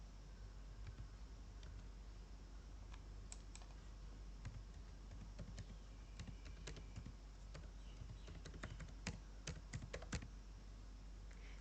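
Someone types a web address on a computer keyboard, a steady run of light key clicks with a few sharper taps, close and alone over a faint hiss.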